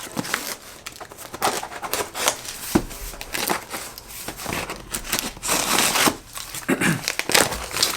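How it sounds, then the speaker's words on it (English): Styrofoam packaging is pulled and handled while a box of clothing is unboxed, giving irregular squeaky rubbing, crunching and creaking scrapes in close, uneven bursts. "I really hate styrofoam, the noise it makes"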